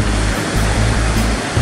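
Large, dumping surf waves break continuously at a home surf break in near-windless, faint offshore conditions, a loud, steady wash of rushing water with no voices.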